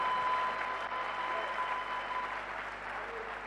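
A church congregation applauds God in a sustained wash of clapping that holds steady throughout, with faint crowd murmur beneath.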